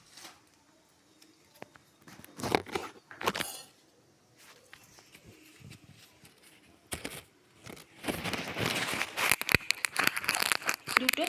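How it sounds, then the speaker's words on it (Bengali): Two bay leaves torn by hand over a stovetop while cooking a vegetable aloo dum, giving short crinkling, tearing bursts with quiet pauses between them and a denser run of crackling rustles near the end. "দুটো তেজপাতা আমি ছিঁড়ে দিয়ে দেবো"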